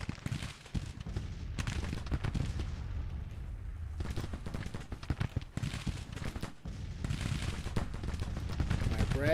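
Artillery guns blast repeatedly during a Civil War-style battle in the strategy game Grand Tactician, a dense, rolling barrage of booms and crackling volleys that continues without pause, with no talk over it.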